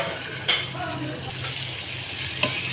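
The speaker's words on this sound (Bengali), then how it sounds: "মশলাটা কষিয়ে নিয়েছি, এখন আমি চিংড়ি মাছটা ঢেলে দিচ্ছি।" Shrimp poured into spiced masala sizzling in a pan, giving a soft continuous frying hiss with a couple of sharp clicks of a utensil against the pan, close up, no talking.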